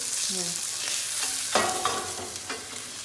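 Salmon fillets searing in a hot pan make a continuous close sizzle, broken by a few scraping and stirring clinks of a utensil against the pan; no one speaks.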